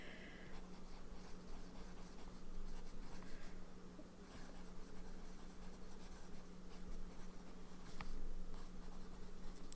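Pen nib scratching steadily across paper while writing with Scribo Notturno Viola ink, close and quiet, with continuous soft strokes and a low steady hum in the room; no voices.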